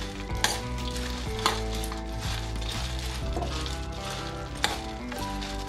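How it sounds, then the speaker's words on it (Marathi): Raw chivda is stirred and mixed with farsan and finely chopped coriander in a bowl, giving a continuous dry rustling with a few sharp clinks, close and steady. "आता आपण फरसाण टाकून घेऊयात। बारीक कट केलेली कोथिंबीर, याला व्यवस्थित मिक्स करून घेऊयात।"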